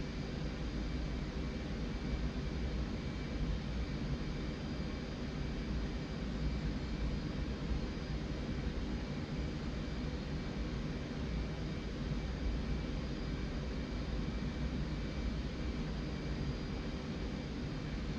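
A bomb-carrying airplane in a flight simulator game drones with a steady engine roar, an even, unbroken hum with no speech and no change in level.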